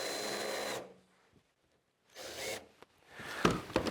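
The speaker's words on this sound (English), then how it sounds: "Now that the holes are drilled, I'm just going to put a small countersink in there." A power drill fitted with a small countersink bit cuts shallow bevels into freshly drilled pilot holes for pedal car door latches, heard as two or three short whirring bursts of varying length, close and fairly loud, with no talking.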